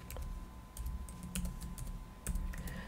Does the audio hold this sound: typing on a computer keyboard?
yes